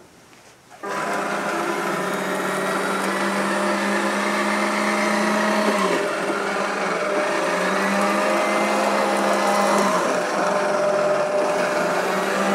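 A Vileda VR 101 robotic vacuum cleaner starts abruptly and runs with a steady whirring drone, its pitch dipping briefly a couple of times as it moves along.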